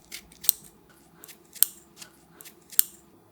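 Kitchen scissors cut cooled steamed eggplant into long strips, making three sharp, crisp snips among softer repeated blade movements, close and clear with no talking.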